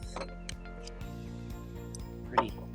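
A portable manual coffee grinder grinds Death Wish coffee outdoors in the woods, giving a quiet, steady mechanical ratcheting rhythm with one brief louder knock.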